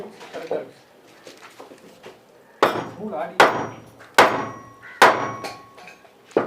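Sharp, loud knocks ring out one by one at close range as a window frame is tapped into place on a construction site, preceded by softer handling noises and brief voices.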